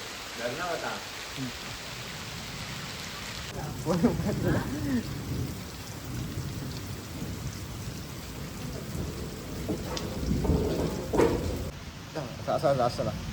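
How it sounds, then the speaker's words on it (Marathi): Steady rain pours outside in a Konkan village with a constant hiss, while people talk nearby over it. "बाहेर पाऊस पडतोय"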